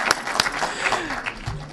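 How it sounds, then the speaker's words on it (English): An audience at a Côte d'Ivoire community event in Los Angeles applauds with scattered, fairly faint claps for under two seconds. "So let's give a round of applause."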